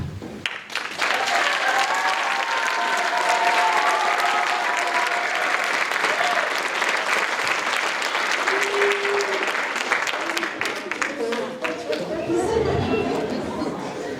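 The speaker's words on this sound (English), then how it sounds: "So I would love for the 8th graders to give us a wave so we can give them a clap." Audience members at a middle school spring concert give the eighth graders a long, full round of applause, thick and continuous, with crowd chatter and a few voices rising above the clapping near the end.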